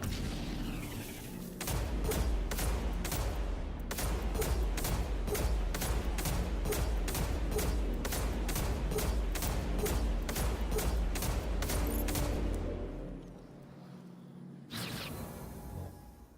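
Rapid rounds from the D.A.R.C.I weapon in a video game fire in a loud, steady burst of evenly spaced shots lasting about ten seconds, then stop, leaving a brief lull before fainter activity resumes.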